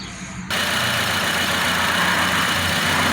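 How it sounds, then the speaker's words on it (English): A car engine idles with a random multiple-cylinder misfire, starting up abruptly after a brief quiet moment and then running as a steady, loud, close rumble with a broadband hiss on top. "I'm gonna turn on the car and show you how the engine operating."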